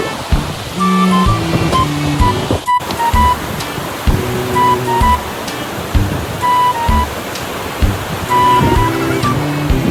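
Rushing river water roars continuously and close by, a broad noisy wash with brief shouts and splashes breaking through at intervals.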